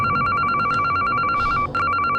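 A phone rings insistently with an unknown number calling, giving rapid repeated electronic trills in quick bursts that are loud and close, with a brief break near the end before the ringing resumes.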